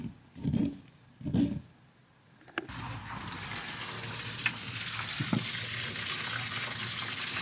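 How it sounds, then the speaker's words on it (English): Water rushes steadily into a Transit van conversion's water tank through a temporary plumbing connection, a continuous hiss that starts a couple of seconds in after a few brief knocks, with no talking over it. "Let's fill the tank up and test it."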